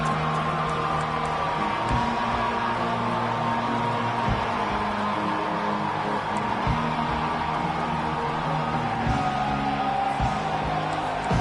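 A home crowd at a college football game keeps up a steady, dense roar of cheering and whooping on third down, with a low rumble running underneath throughout.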